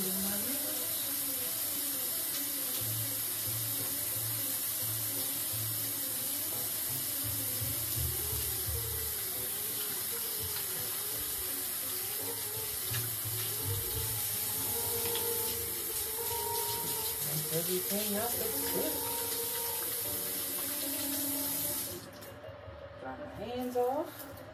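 Running tap water pours steadily into a sink while hands are scrubbed beneath it, a continuous close hiss that cuts off near the end, with a person speaking over it.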